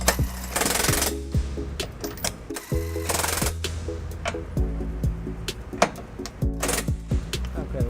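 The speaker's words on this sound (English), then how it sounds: "I'm going to take an electric DeWalt impact, and I'm going to use an 18mm socket with an extension here" Electric DeWalt impact wrench with an 18mm socket on an extension snugging trailer hitch bolts on a 2006 Toyota RAV4, loud repeated hammering bursts of about a second each, separated by short pauses.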